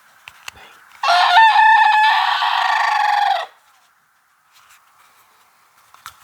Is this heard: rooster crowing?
yes